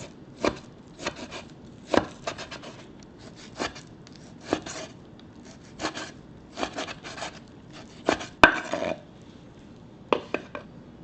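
A knife chops raw beef into thin matchsticks on a board, with uneven clusters of sharp, close cuts separated by short pauses.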